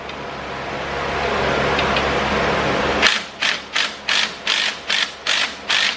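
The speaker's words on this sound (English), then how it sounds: "We got a 13 socket on here, 13 wrench." A 13 mm socket wrench ratchets nuts off the lift plate of an EZGO Cushman Hauler Pro golf cart, about eight crisp, evenly spaced clicking bursts following a few seconds of steady mechanical whirring.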